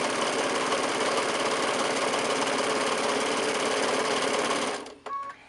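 Sewing machine chain stitching quilt pieces together for a half-square-triangle chevron quilt, a steady fast whirring run held for nearly five seconds before stopping abruptly, with a few small clicks after.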